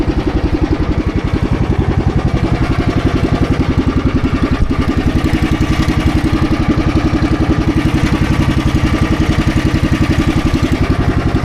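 A motorcycle engine idles steadily on an island trip, a loud, close, even rhythmic putter that holds throughout with no change in pace.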